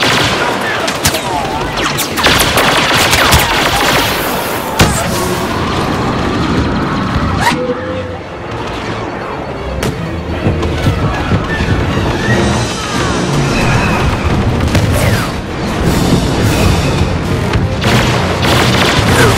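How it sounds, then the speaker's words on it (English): Y-wing bombers make an attack run in the Star Wars Battlefront game, loud booming explosions and rattling blaster fire piling up continuously amid mechanical clatter, with battle noise filling the whole stretch. "Bombers are making their attack run."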